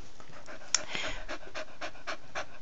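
An 8-year-old black cocker spaniel pants close by in quick, soft, rhythmic breaths, quiet and alone.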